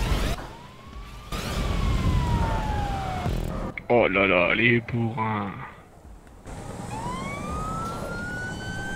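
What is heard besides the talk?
ambulance siren in video game GTA 5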